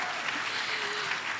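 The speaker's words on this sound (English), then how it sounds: "can you clap if you have no idea what Dan is talking about again?" Brief, moderately loud clapping from a podcast audience, a dense steady patter of many hands with no speech over it.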